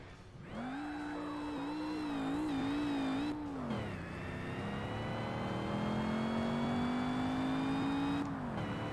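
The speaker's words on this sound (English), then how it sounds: "I do appreciate that there's a lot of supercharger noise on this car." A supercharged Chevy muscle car engine in a racing video game revs up with a whining rise, drops pitch abruptly as it shifts, then climbs again, loud and continuous with no talking.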